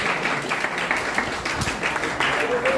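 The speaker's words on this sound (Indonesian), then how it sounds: "tepuk tangan buat teman kita sekali lagi" Brief applause from students in a room during a school visit to a regional election commission office, a steady wash of clapping at moderate volume lasting only a few seconds.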